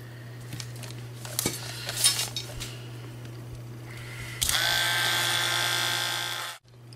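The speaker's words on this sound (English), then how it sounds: "Looks like I got some more rivets here to detach." Metal tools work at rivets on a Corgi 267 Batmobile die-cast toy with close clinks and scrapes, then a loud high-pitched grinding whir for about two seconds.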